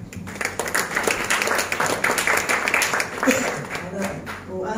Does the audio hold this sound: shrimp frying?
no